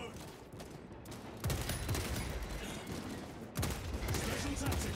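Sustained automatic fire from Warhammer 40k: Space Marine II sounds as dense rattling volleys in two loud bursts over battle noise, with some voices in the mix.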